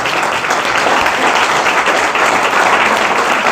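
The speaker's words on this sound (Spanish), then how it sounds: "pido que le deis un aplauso" A lecture audience breaks into steady, dense applause, many hands clapping together at an even loudness from start to finish with no voices over it.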